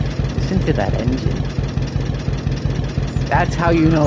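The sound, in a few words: classic tractor engine idling in Farming Simulator 22 video game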